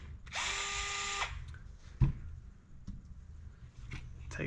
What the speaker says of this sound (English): Remove that screw.